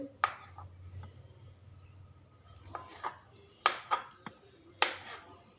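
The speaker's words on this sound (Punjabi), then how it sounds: "ਸੋ ਹੁਣ ਮੈਂ ਇਹਨਾਂ ਨੂੰ ਕੱਟ ਲੈਣੀ ਆ ਸੋ ਇਸ ਤਰ੍ਹਾਂ ਤੁਸੀਂ ਕੱਟਣਾ ਹੈ ਛੋਟੇ ਛੋਟੇ ਪੀਸਿਸ ਵਿੱਚ" A knife chops soya chaap into small pieces on a board, giving scattered sharp knocks, some single and some in quick pairs, over quiet room tone and a low hum.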